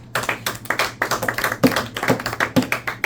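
Classroom applause for a student, a short burst of several people clapping unevenly with sharp, rapid hand claps lasting about three seconds.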